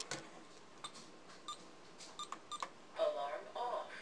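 SimpliSafe alarm keypad giving a run of short electronic beeps as PIN keys are pressed to disarm the system, spaced irregularly, faint and close in a quiet room.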